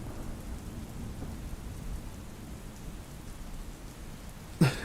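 Heavy rain pours steadily through a thunderstorm, a dense wash of drops with low rumbling thunder underneath, continuous and enveloping, ending with a brief sharp knock.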